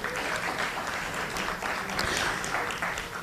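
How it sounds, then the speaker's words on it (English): Audience applause at a town hall meeting, a steady, dense wash of clapping from a seated crowd lasting the whole stretch. "let's give Dr. Morris a round of applause"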